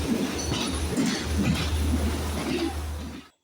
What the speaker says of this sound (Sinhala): මේ අපි ආව ට්‍රේන් එක යනවා දැන් කොළඹ පැත්තට.